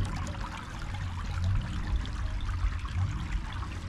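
Water pours and trickles over a rock in a city creek, a steady broadband splashing and gurgling that runs continuously at moderate loudness for the whole stretch, with no voices over it.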